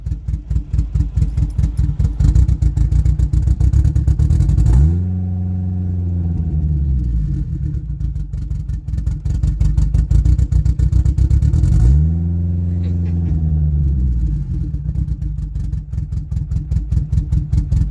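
A boosted Honda Civic engine idles roughly because of a faulty idle air control valve. The steady, loud idle rumble sags twice, the revs dropping low for a couple of seconds each time before surging back up.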